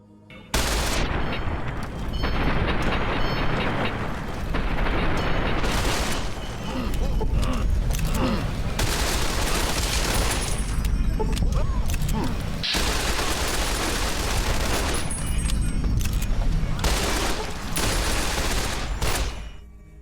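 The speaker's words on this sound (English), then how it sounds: "working for Kaisar, I destroy the bunker under the fort" Explosions and heavy gunfire tear through a bunker under a fort in the video game Fallout New Vegas, a loud, dense barrage of booms and rapid shots that runs almost without pause.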